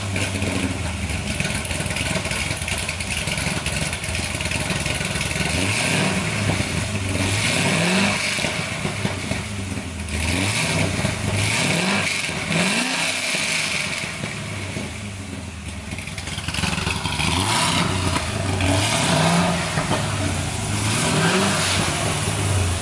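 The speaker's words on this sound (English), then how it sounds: "I can give it little throttle and rev right on up." A 600 hp LS7 Corvette Z06 with a large cam and a new tune revs up repeatedly from idle, its loud, steady engine note rising and falling in smooth throttle blips, close by and with no talking.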